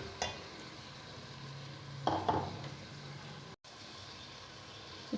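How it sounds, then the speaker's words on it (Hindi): Mutton frying in oil left from browning onions, a soft, fairly faint sizzle with a few stirring scrapes and spoon knocks against the pot, no talk. "जिस ऑयल में हमने प्याज ब्राउन करी थी उसी में हमने गोश्त डाल दिया है।"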